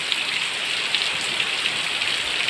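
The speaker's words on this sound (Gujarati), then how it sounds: "જો આવી રીતે વરસાદ વહે છે પછી પાછો બતાવું કેટલો વરસાદ વહે છે" Steady rain pours down in a dense, even hiss over a farm field with water flowing, close and loud, with no voices or other sounds.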